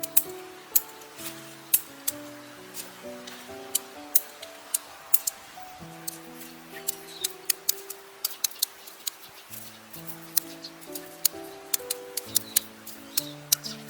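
Crisp, repeated snips of garden scissors cutting off spent flowers in a garden, irregularly spaced over a soft background of low tones, each cut a sharp, close click.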